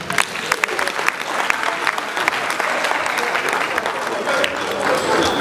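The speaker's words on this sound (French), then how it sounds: "Applaudissez pour lui." An audience at an awards ceremony in a congress hall claps loudly and continuously, a dense, lively burst of applause with sharp individual claps standing out.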